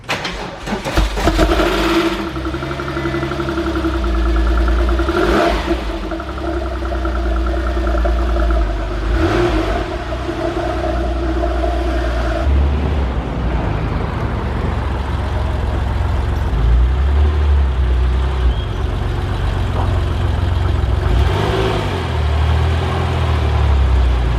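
A 1996 Porsche 993 Turbo engine pulls hard while driven, its loud mechanical roar rising and shifting steadily with sustained acceleration and no talking.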